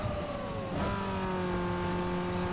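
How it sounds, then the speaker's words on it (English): Car engine roaring with a rising whine and steady hiss as nitrous boost kicks in during a Need for Speed Underground 2 street race, loud and continuous with no talking. "Gonna use my nitrous here."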